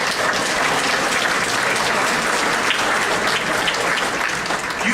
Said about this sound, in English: A round of applause for all of you.